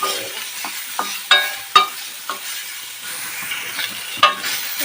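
Raw mango fries with salt and turmeric in a pan, a steady sizzle broken by a series of sharp scraping knocks from a stirring spoon at uneven intervals, close and clear.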